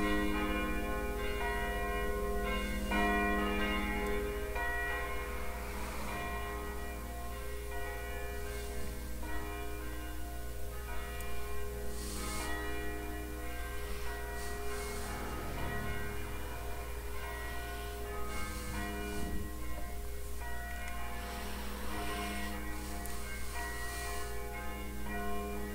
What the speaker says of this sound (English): the bell started ringing.